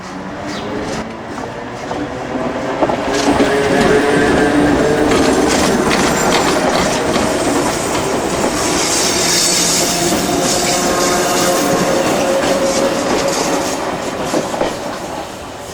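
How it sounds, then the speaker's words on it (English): A late-1960s freight train hauled by an EW class electric locomotive, EW 1803, climbing a gradient toward Rauroa on the Johnsonville line, a loud close rumble with rhythmic wheel clatter and occasional squeal rolling past steadily. "This is a typical such train ascending the gradient towards Rauroa behind EW 1803 back in the late 60s."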